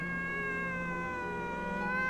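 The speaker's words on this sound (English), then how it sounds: "I just want to show off the new kitty" A pet kitten lets out one long, drawn-out, plaintive meow close by, steady and fairly loud, with no other sounds.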